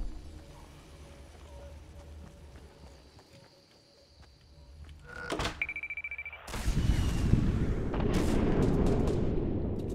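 Fortnite gunfire breaks out midway after quieter game ambience: a sharp crack, then a dense, loud volley of shots and impacts that keeps rumbling to the end.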